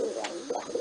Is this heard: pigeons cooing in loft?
yes